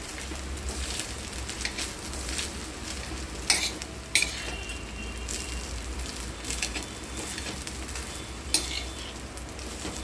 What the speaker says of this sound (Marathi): कांदा भाजत येते मध्ये आपण आपला भात टाकूया, त्यामध्ये भाजायला गरम करायला